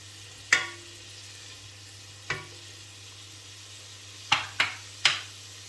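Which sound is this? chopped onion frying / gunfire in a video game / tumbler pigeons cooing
chopped onion frying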